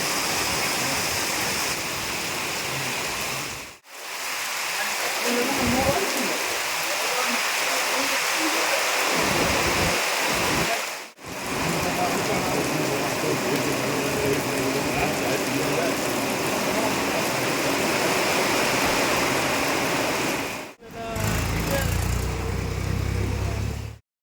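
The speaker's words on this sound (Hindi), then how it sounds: "देखिए बारिश हो रही है, फिर हम लोग एक जगह रुक गए हैं क्योंकि बहुत तेज़ पानी बरस रहा है।" Very heavy rain pouring down in Chitrakoot during a monsoon downpour, a dense, steady roar of rainfall close by and loud, broken by a few brief dropouts, with no talk.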